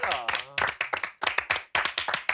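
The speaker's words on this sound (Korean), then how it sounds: "우리 박수 한번 주세요" An audience claps for military working dogs and their handlers, a quick run of loud, rhythmic clapping bursts mixed with voices.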